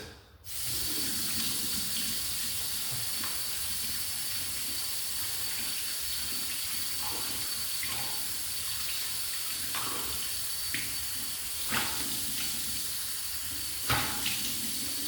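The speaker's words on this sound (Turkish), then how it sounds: "Elimizi yüzümüzü yıkayalım" Tap water runs steadily into a sink for washing hands and face, a continuous close hiss lasting throughout with small splashes and clatters near the end.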